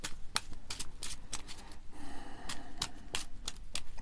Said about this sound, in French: je reprends le battage des cartes